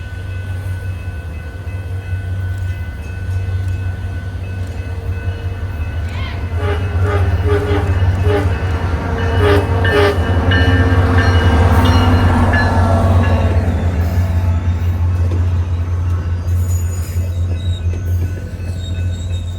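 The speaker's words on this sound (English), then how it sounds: "This train had Loco 110 at the lead, with a few taps from its less than stellar horn." A SunRail commuter train led by Locomotive 110 rumbles past with a steady low drone, giving a few short, weak taps of its horn mid-pass amid wheel and rail noise.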